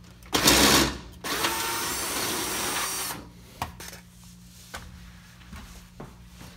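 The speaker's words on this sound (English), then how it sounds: "we need to get the cover off, and these are 8mm sockets, and they're gonna come off really easy" A power driver with an 8mm socket backs out engine cover screws on a Ford 3.5 EcoBoost, giving two close whirring bursts, a short one then a longer one, followed by quieter clicks and taps of parts being handled.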